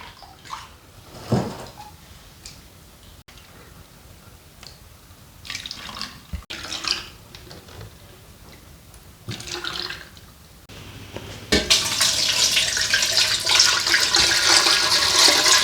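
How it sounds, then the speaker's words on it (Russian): Cold water gushes loudly and steadily into three-litre glass jars packed with large pickling cucumbers, building to a strong rush after quieter splashes and clinks. "Заливаем холодной водой."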